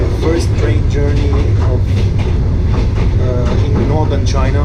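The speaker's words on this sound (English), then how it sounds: "Yeah guys, I made it onto the train." Passenger train on an overnight sleeper journey across northern China, with a steady rolling rumble and faint rhythmic wheel clatter throughout, under someone talking close by.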